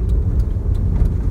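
A car's turn signal clicks at a steady, regular rhythm, four distinct ticks over a loud, continuous low engine and road rumble inside the vehicle.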